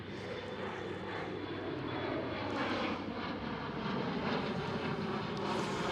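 A KLM Cityhopper Embraer E175 regional jet at Amsterdam Schiphol gives a steady, moderately loud engine roar with broadband rumble that swells slightly midway, heard on its own without voices.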